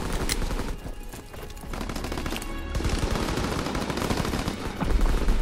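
Rapid bursts of shotgun and other gunfire in a Call of Duty: World War II match, dense overlapping shots and blasts with game effects throughout, loud and continuous, no talking.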